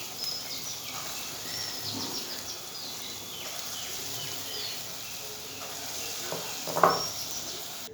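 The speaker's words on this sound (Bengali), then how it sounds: "একইভাবে গ্যাসটা কমিয়ে দিয়ে আমি পরের বড়াগুলো ভেজে নেব।" Masoor dal fritters fry in oil over a lowered gas flame, giving a soft, steady sizzling hiss with a few faint pops and no talking.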